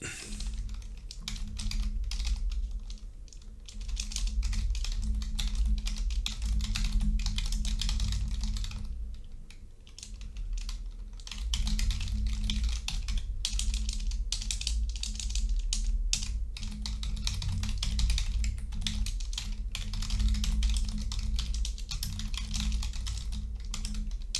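Fast typing on a computer keyboard, rapid irregular key clicks in bursts with brief pauses, close and fairly quiet over a low background hum.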